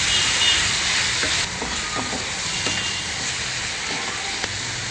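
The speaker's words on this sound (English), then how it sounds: "So stirring in medium flame." Soya chunks and green jalapeno peppers fry over a medium flame, giving a steady close sizzle with light scraping and clicking of stirring at irregular intervals and no talk.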